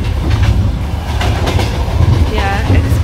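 Sleeper car of a cross-country train through Ukraine and Hungary rolling along the rails, a steady loud low rumble with faint clattering throughout, heard from inside the carriage hallway.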